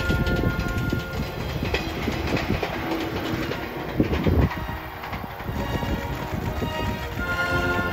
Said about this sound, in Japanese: 反対方面からまた115系がやってまいります